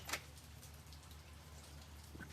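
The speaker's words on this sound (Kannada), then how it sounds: "ಸೊ ಇವಾಗ ಮಳೆ ಬೇರೆ ಬರ್ತಿದೆ." Monsoon rain falling outdoors in the hills of Chikmagalur, a faint steady patter with a few louder drops close by, no talking.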